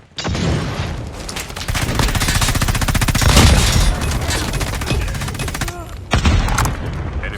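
Rapid sustained automatic gunfire in Call of Duty Mobile with a sentry gun active, loud dense bursts with booms, a brief pause near the end before firing resumes, and speech in the mix.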